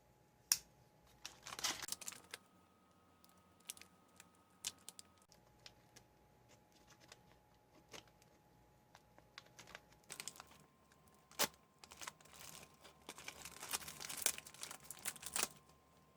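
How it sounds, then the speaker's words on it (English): The accessory packet bag from a 1979 Long Range Patrol ration pack is cut open, with quiet, close crinkling and snipping that come in short bursts and grow busier toward the end, without speech. "I'm actually going to cut it open so I can save the accessory packet bag."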